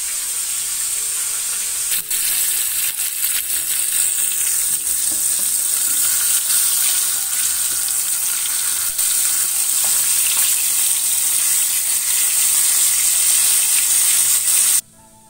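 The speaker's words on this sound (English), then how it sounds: "I fry the fish." Fish frying in oil over medium heat, a loud, unbroken hiss and crackle of sizzling that holds steady for about fifteen seconds before stopping abruptly.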